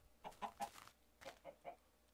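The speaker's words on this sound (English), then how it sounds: "Yes, chicken. Give me more of your eggs." Minecraft chicken clucking in short bursts, a cluster of three quick clucks followed by a pause and then three softer ones, fairly faint with no talk over them.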